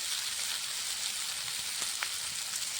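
Potato, raw banana and eggplant frying in a pan, an even close sizzle with a few faint stirring ticks and no voices.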